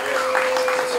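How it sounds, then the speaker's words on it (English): An audience at Bitter End Yacht Club applauds America's Cup winners, a short burst of steady clapping with a faint voice running underneath. "Big round of applause,"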